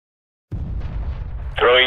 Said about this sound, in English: Grenade. Throwing flashbang.